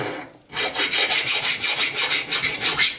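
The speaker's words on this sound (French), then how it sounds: "Je prends une lime" Metal parts clamped in a vise are worked with a hand file during restoration of a Citroën Traction 11B, giving steady, close, rhythmic rasping strokes, about a dozen in quick succession, with no talking.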